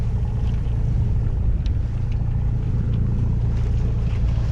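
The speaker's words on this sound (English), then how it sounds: "We're still motoring. No, you know, into the wind, not going that fast." A sailboat's engine drones as it motors into the wind on an open-sea passage from Jamaica to Panama, a loud constant low rumble with wind and water hiss and no voices.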